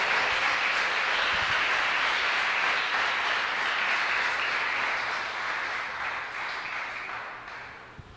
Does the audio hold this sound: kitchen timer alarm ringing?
no